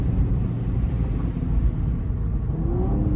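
A Cadillac CT5-V's engine holds high revs while driving, a loud steady rumble with a faint rising tone late, no talk.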